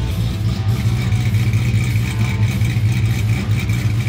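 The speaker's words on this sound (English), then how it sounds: "When we first fired this engine up, this thing sounded real healthy." A 1,000 hp all-aluminum engine in an old Plymouth runs loud and close, a steady, throbbing, slightly lumpy idle with mechanical clatter, heard alone without any talking.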